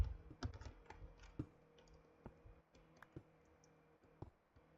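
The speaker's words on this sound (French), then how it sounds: "on entendait beaucoup mon clavier quand même" Quiet computer keyboard typing during a Minecraft session: scattered clicks and short bursts of keystrokes, denser at the start then sparser, close to the microphone with no talking.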